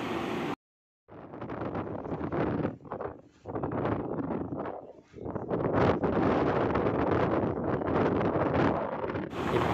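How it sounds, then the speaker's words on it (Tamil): Strong sea wind gusting at the Kanyakumari coast, a loud roaring buffet across the microphone that swells and dips, with a brief dropout near the start. "காற்று காற்று பேசவே விடலை. இவ்வளோ வேகம் காற்று"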